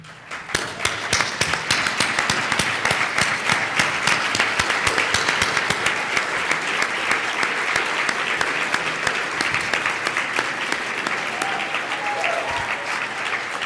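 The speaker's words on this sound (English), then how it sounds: "Could you please stand so we can give you a round of applause" A banquet audience at a graduation dinner applauds in a sustained, dense burst of clapping that holds steady for the whole stretch, close and loud.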